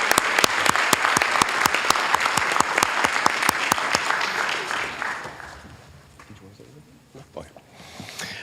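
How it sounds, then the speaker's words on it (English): Loud, dense applause from a large audience at a Hayward city council meeting, with sharp claps throughout, fading out after about five seconds into quieter room sounds and a few scattered claps. "Let's give everyone another big round of applause."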